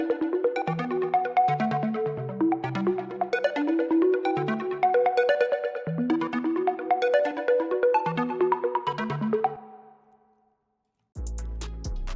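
Melodic synth arpeggio made with the Hive synthesizer, a busy stream of bright, layered notes playing steadily for about ten seconds before fading, then a short low, droning tone enters at the end.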